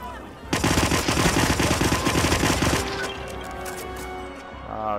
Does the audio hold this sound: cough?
no